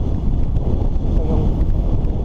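Strong wind blows constantly across an open shallow-water area, a loud, steady roar and buffeting rush against the microphone with no pauses.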